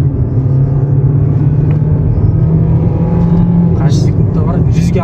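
A Kia Sportage at full throttle on a quiet road, its engine giving a loud, steady droning roar heard from inside the cabin, with a faint voice now and then.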